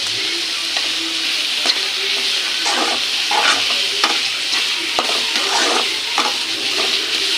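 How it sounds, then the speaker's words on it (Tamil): Onions sautéing in a pan for crab masala, a steady bright sizzle with repeated scraping stirs of a spatula throughout, close and continuous. "இது வந்து நல்லா வெங்காயம் ப்ரௌன் கலர் நல்லா வதங்கணும்"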